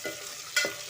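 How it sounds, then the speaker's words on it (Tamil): Spinach sautés in a pan for a Tamil palak keerai kulambu, with a faint sizzle and two quick stirring scrapes close by, and no voices. "நல்லா ஒரு 2 நிமிஷம் நல்லா வதக்கி விடுங்க."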